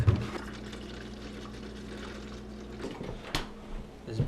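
Milk poured into a blender for a protein shake, a brief soft liquid pour close by over low room hum, with a small clunk near the end.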